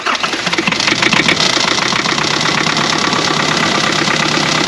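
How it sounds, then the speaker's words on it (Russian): A car engine runs loudly and closely right after a jump-booster start in minus 10 cold. The idle is rough and steady, with a knocking rhythm throughout. "Запустили оцього штуку, мінус 10."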